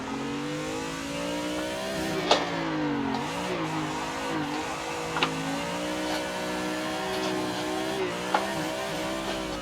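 Engine revving in a racing simulator game while a car drifts, a sustained mid-pitched engine drone rising and falling, with a few sharp clicks and brief dips, no voices.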